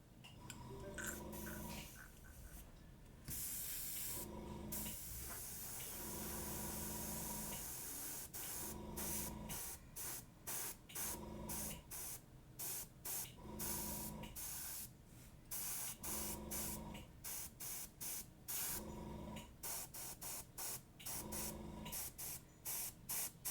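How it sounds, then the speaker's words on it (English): Airbrush spraying paint onto a miniature troll figure in repeated bursts of steady hiss, each lasting a second or two with brief gaps, loud and close with no talking. "airbrush on"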